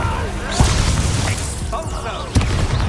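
In the video game Hogwarts Legacy, a Confringo explosion spell sets off two sharp booming blasts over a dense bed of game noise, and a voice can be heard amid the action.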